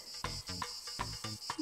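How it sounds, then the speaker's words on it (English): Cricket chirping in quick, evenly spaced bursts, about five pulses in under two seconds, bright and clear with no voices. "Krik, krik, krik, krik, krik, krik, sang Cricket."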